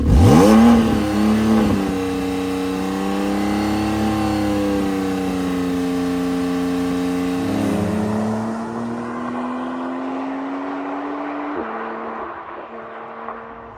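A Porsche 991.2 Carrera GTS with a valved titanium exhaust revs up sharply, then holds a loud, steady high idle around 4,000 RPM with a raspy exhaust note before dropping back and settling.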